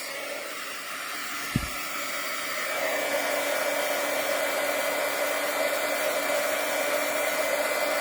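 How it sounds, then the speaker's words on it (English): A steady, loud blowing hiss of a heat tool drying paper runs continuously after a brief click, growing slightly stronger partway through, with no talking. "I'm going to use my heat tool to dry this a little more."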